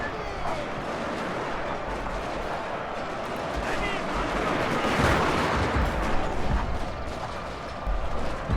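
Battle gunfire in the strategy game Total War: Shogun 2 Fall of the Samurai, a constant rumbling roar of shots and artillery that swells near the middle and carries on steadily, heard under occasional talking.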